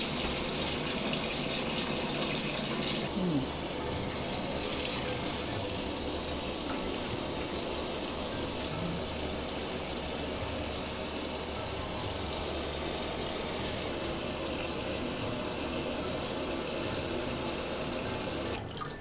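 Horsetail plants for plant dyeing are rinsed under a running kitchen tap, a steady close gush of water splashing into a sink throughout, with no talking.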